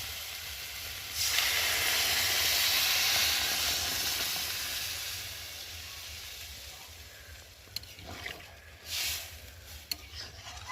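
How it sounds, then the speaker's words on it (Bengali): Water poured into a hot pan of sautéed mixed vegetable curry bursts into a loud, broad hiss of steam that slowly fades over several seconds, followed by a few clinks and a brief second hiss. "ভালোভাবে কষানো হয়ে গেছে আর এখন আমি এর মধ্যে জল দিয়ে দেবো"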